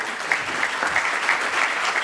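Audience at the Innovate for Good 2019 conference applauding, a steady, dense wash of many hands clapping close by for about two seconds with no talking.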